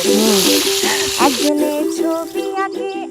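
Food frying in hot oil gives a continuous, fairly loud sizzle, partly masked by strong tonal, voice-like sounds that run through the clip.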